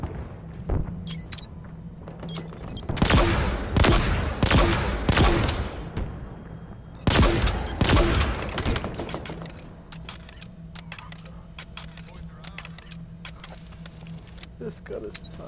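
Halo Infinite gunfire and missile launcher shots crack out in rapid bursts, dense clusters of sharp blasts early, then sparser pops and clicks, loud and close, with a player's voice talking over parts of it.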